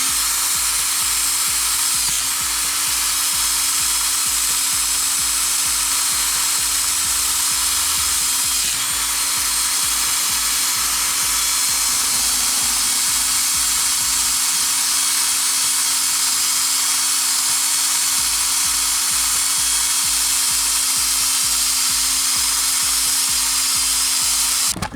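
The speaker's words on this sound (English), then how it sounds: "Then take your drill, start sanding." A power drill fitted with a sanding adapter whirs continuously under a car as it grinds away rust, a loud, steady high-pitched buzz running the whole time with slight shifts in pitch.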